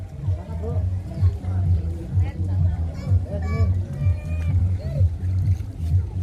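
A boat ride at Ancol, with a steady low engine drone running throughout and voices chatting over it.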